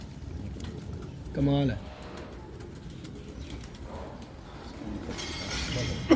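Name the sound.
high-flying pigeons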